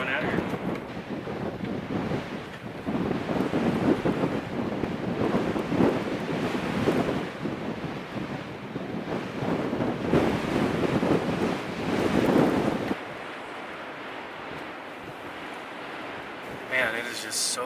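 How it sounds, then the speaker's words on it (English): Cold wind gusts roar across the microphone outdoors in snow, buffeting heavily for most of the stretch, then dropping to a quieter hiss before a final burst; someone talks at times over it. "Man, it is just so cold and windy out here."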